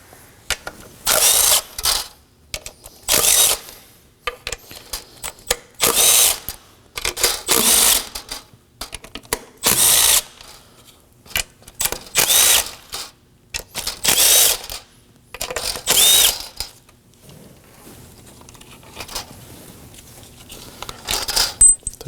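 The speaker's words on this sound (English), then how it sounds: "Next up, we're gonna remove these 8 12mm bolts." Power tool spinning out the eight 12mm bolts on a 2014-2020 Acura MDX 3.5L V6 during a high-pressure fuel pump replacement, heard as repeated loud bursts of whirring, each a second or so long, separated by short pauses.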